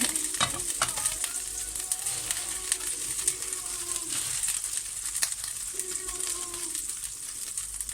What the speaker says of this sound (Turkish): Biraz çatırdıyor evet.